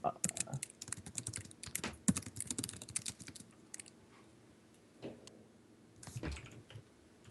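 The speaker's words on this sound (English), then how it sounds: "It's a lot of typing." Steady computer keyboard typing, a dense run of quick clicks and key taps for the first few seconds, then sparser bursts of keystrokes with pauses between, close up, with faint bits of voice.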